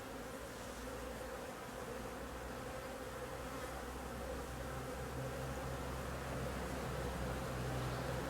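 A honeybee colony in an opened hive, packed full of bees, gives off a dense, steady buzzing drone, close and continuous, with no voices.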